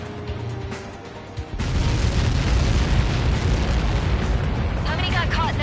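Massive explosion in Ace Combat 7 as projectiles strike, a loud deep rumbling blast that swells and roars on for several seconds, with radio chatter beneath it.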